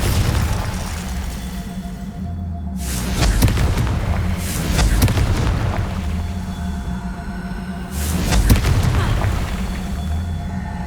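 Confringo fire spell explosions in Hogwarts Legacy: three heavy booming bursts against a constant dense game soundscape, loud and close, each blast fading into rumble before the next.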